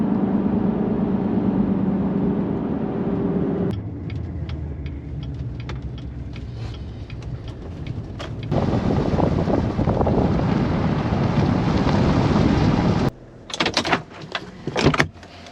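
Inside a moving car, a steady rumble of road and engine noise fills the cabin, with brief clunks and shifts in the drone, ending in a few sharp knocks.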